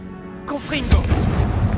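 In the video game Hogwarts Legacy, a Confringo spell fires and bursts in a sharp, booming blast just under a second in, followed by a rumbling, crackling tail.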